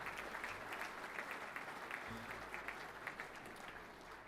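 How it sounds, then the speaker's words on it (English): Audience applause at a premiership reunion luncheon, a sustained round of clapping from a seated crowd, even and continuous, heard at a distance in a large room. "let's start it off with a big round of applause for everybody here today"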